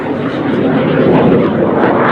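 A de Havilland Vampire jet flies at the Duxford Battle of Britain Airshow, its engine a loud, steady, broad roar that stays close and constant throughout.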